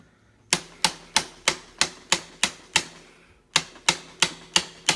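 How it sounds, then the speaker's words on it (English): A nut on a KYB shock assembly from a 2001 Kawasaki KX 250 motocross suspension is being tightened. A crisp, evenly paced series of clicks comes in two runs with a short pause between them, loud and close with no talk. "Tighten down this nut."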